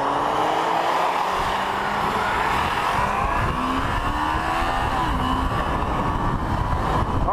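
A 2013 Kawasaki ZX6R 636 motorcycle being ridden, its engine droning steadily and loud throughout, with the pitch rising and falling as the throttle opens, alongside constant wind noise.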